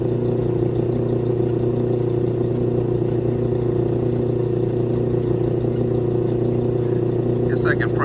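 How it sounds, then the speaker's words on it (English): A metal lathe runs with a steady droning hum while taking a light cut on an aluminium spacer, a constant mechanical tone throughout with a person talking over it. "Kick our lathe on, and I have the stop set up right here so I won't crash into the chuck"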